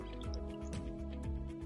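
Aquafina bottled water being poured, with drips and liquid splashes recurring in an uneven rhythm, close and fairly quiet over a steady hum.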